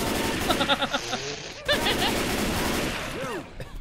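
Gunfire in Left 4 Dead 2, rapid bursts of shots in quick clusters at fairly close range, layered with other game sounds and shouted voices.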